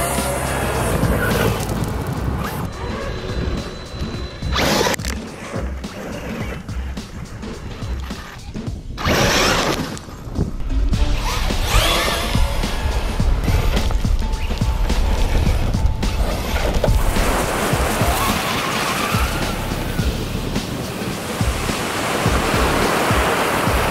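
ARRMA Nero Big Rock BLX RC truck blasting across beach sand, its motor roar and churning sand loud and continuous with wind and surf noise, brief dips where it slows, no talk.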